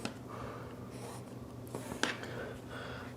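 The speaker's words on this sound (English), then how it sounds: "So I will put the clear ruler right here at 31 and use my white marking pen" A white marking pen or pencil drawn along a clear ruler on fabric makes a faint scratchy stroke, with a brief sharper scrape near the middle, all quiet and close.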